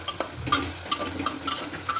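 Onion and potato curry is stirred in a pan, with light regular scrapes and small metallic clinks of the spoon over a low sizzle, heard up close.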